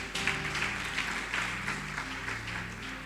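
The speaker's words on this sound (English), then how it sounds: "Please give them a round of applause." Audience applause at a closing ceremony, a steady wash of clapping from a crowd over a low background hum, holding for a few seconds.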